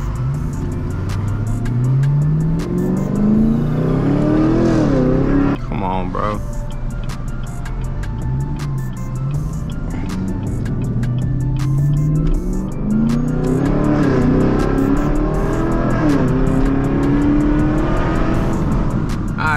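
A Chevrolet Camaro SS's exhaust drones and rises through the gears as it accelerates, loud from inside the car, with a brief clatter midway and a second acceleration later.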